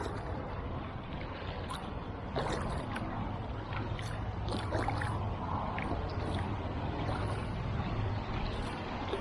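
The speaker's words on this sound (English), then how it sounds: "I'll just carry on paddling and let you enjoy" Kayak paddled along a river between Allington Lock and Maidstone town centre, with soft water swishes and drips from paddle strokes over steady wind and microphone rumble, quiet and close.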